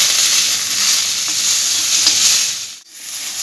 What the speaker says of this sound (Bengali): এরপর এগুলো একটু ভেজে নিচ্ছি আমি।